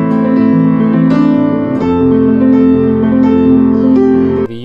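A 1976 Yamaha U1 upright piano played with its felt celeste rail lifted, so the tone is open and unmuffled; a short phrase of chords and melody notes sounds close and steady, with no speech.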